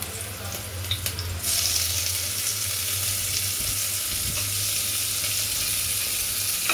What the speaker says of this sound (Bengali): টমেটো কুচিটা দিয়ে একটু নাড়াচাড়া করলাম।